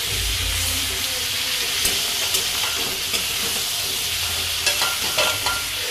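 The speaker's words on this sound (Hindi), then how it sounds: "अब इसे अच्छे से मैं मिला दूँगी" Food with turmeric and basic spices is stirred in a pan in a home kitchen, with a continuous sizzling hiss and intermittent scrapes of the spoon against the pan, close and moderately loud.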